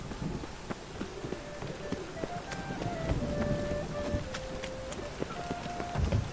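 Steady storm rain pours across the open world of The Witcher 3, a dense continuous wash with soft wind, scattered drips and brief game tones layered over it, no voices.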